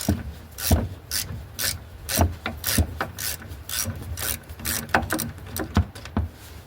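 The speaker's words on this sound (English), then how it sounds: "Maybe I can get my ratchet here on." A ratchet wrench works a shock absorber bolt on a 1998 Ram 1500 truck, with repeated close, loud ratcheting clicks in an uneven rhythm and no talking.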